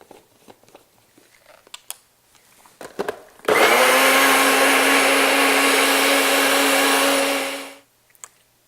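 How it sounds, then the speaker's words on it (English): After a few faint clicks and handling noises, a blender whirs loudly and steadily for about four seconds while blending almond milk with cocoa powder, then spins down to a stop. "Then you put it in the blender, and you're going to blend it up."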